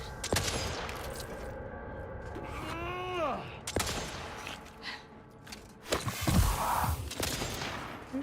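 Scattered gunfire in the video game The Outer Worlds 2: isolated sharp shots and a few clustered bursts at mid-distance, mixed with a rising-falling tonal whine and a low groaning sound, under ambient game noise.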